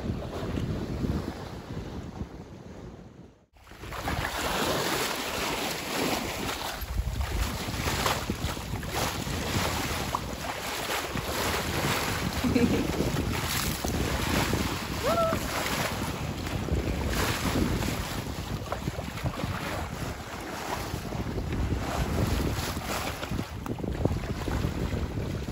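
A sailboat under sail upwind crossing the Bay of Biscay in rough seas, with steady loud wind buffeting the microphone and waves washing against the hull continuously, a brief dip near the start, no talk.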